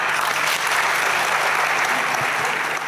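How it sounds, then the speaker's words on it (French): A television studio audience breaks into dense, sustained applause, even and loud from start to finish with a faint crowd murmur beneath. "3, 2, 1, applaudissements."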